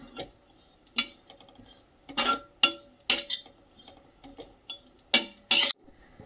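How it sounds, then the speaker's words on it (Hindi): Coconut being roasted in a pan for gujhiya, with a spatula clinking and scraping against the metal in irregular bursts of sharp, close taps separated by quieter stirring. "इस तरह से मैं नारियल को भी भून रही हूँ।"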